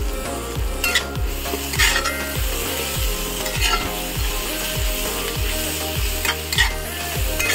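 Onions fry in an iron wok for a fish curry, with a steady sizzle and a spatula scraping and stirring in a quick, regular rhythm close by.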